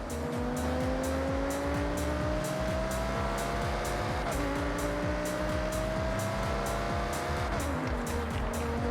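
A V10-powered supercar in Forza Horizon 6 drives hard with a loud, steady engine note that climbs through the gears, and its pitch drops briefly at two shifts. Tire squeal runs through the whole stretch, with no voices.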